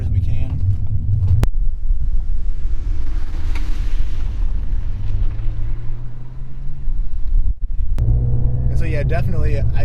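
A Ford Fiesta ST fitted with a traction bar is driven hard through a 90-degree turn, its engine droning with a rising, straining pitch under heavy wind buffeting, with people talking at the start and end.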